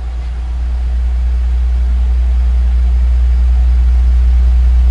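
Wuling Almaz car engine idling steadily with an extra cooling fan running, a continuous low hum and whir that stays constant and fairly loud throughout, no talking.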